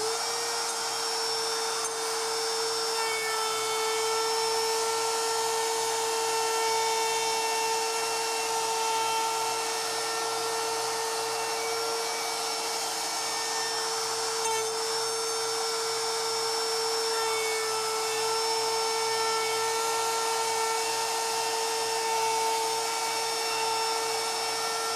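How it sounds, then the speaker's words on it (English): A power tool runs steadily and loudly for the whole stretch while surfacing a wooden cutting board, a constant high whine with no pauses or changes in pitch, and nobody speaks. "I'm just gonna run across and surface this part."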